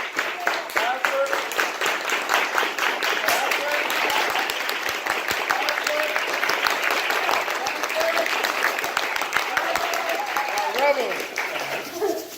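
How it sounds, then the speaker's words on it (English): Audience at a holiday banquet keynote clapping in unison, dense rapid claps steadily filling the room for several seconds, with voices mixed in. "now let's clap, clap, clap, clap, clap, clap."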